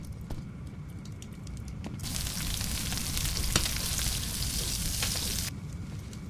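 A crab grilling over a campfire in the survival game Stranded Deep sizzles in a steady, hissing wash that swells up for a few seconds and then drops back to a quieter crackle.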